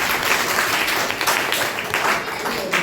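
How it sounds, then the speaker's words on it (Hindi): Classroom applause from students, dense steady clapping sustained throughout at moderate loudness with no clear gaps. "ताली बजाइए इनके लिए"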